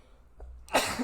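A single sudden sneeze bursts out loud and close during a casual podcast conversation among friends, following a quiet moment.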